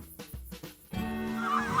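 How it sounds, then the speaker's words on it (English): Geese in open fields giving several short, separate honks at first, followed by a longer, overlapping run of calls, moderately close. "We've got geese in the fields"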